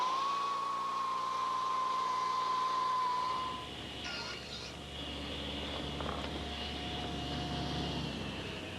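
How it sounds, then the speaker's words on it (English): A belt sander shapes the lower edge of a wooden dagger board for a homemade boat, its steady motor whine running loud and close before dropping into a rougher, broadband grinding hum as the wood meets the belt. "using my belt sander, I want to make a profile on the lower portion of the dagger board"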